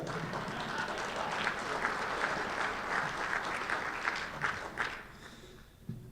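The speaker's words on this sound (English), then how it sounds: "So we're going to have many rounds of applause tonight." Audience applause at a Matador Evening gala fills the room with steady, dense clapping for about five seconds, then thins out and fades near the end.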